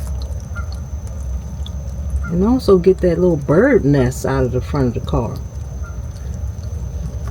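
Engine oil drains from a 2012 Thor Majestic RV in a steady, low pour, while someone talks nearby over the flow.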